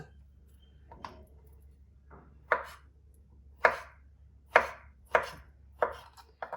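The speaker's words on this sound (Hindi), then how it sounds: "यहाँ पे अब आलू की कटिंग करेंगे" A knife chops through boiled potato on a board, with about six sharp, distinct cuts spaced roughly evenly and a low steady hum underneath.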